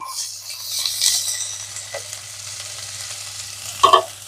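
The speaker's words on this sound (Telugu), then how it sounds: "దొండకాయలు వేసేసుకుందాం." Ivy gourd pieces tipped into a pan of oil with turmeric crackle and sizzle close by, with a few short bursts and a sharper clatter near the end.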